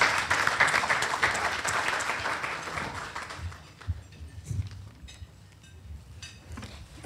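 Crowd applause from a club luncheon audience at a law enforcement update event, loud and dense at first, then thinning into scattered claps and room noise.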